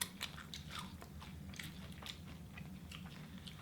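Crunchy Chili's food with spinach, cheese and corn being bitten and chewed close to the mic, a steady run of wet crunches and bites with no talking.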